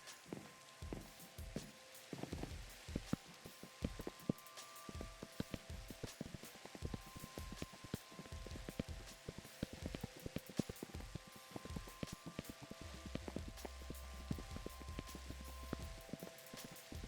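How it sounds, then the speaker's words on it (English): Rain falls in the Minecraft video game as a faint, continuous patter, scattered with quiet irregular taps and clicks. "Oh, I thought it was stopping raining."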